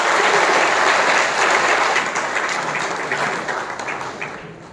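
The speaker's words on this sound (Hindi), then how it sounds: "एक बार जोरदार तालियां मार दीजिए गुरुजी के लिए" Loud, dense applause from a seminar audience honoring their guru at a neurotherapy gathering, a sustained roar of many hands that slowly eases off over a few seconds.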